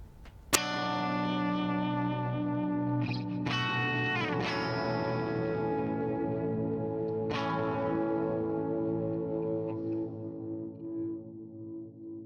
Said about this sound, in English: these are inspired by Kenyon Reed's bright mod plate setting, which just sounds amazing for rhythm